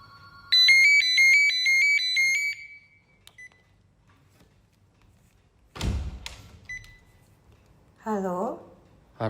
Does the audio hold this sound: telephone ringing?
yes